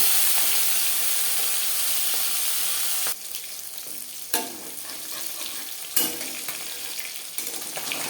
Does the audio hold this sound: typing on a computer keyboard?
no